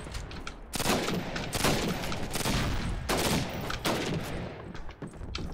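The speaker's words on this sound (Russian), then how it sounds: "это по мне стреляют" Dense bursts of automatic and rifle gunfire from a Call of Duty: United Offensive battle at a station, loud and continuous with sharp repeated volleys throughout, and no talking.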